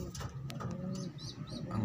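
A pigeon coos softly nearby, a few low, rounded throaty notes over quiet background noise.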